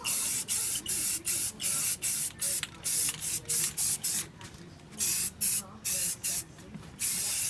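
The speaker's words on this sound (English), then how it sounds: "just quickly spray on that bad boy real quick" Camouflage spray paint hisses onto an AR-15 barrel in a string of short, sharp bursts, about a dozen quick blasts with brief gaps between them, close and fairly loud.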